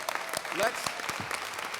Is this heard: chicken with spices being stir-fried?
no